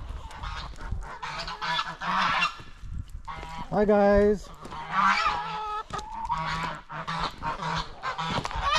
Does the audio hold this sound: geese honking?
yes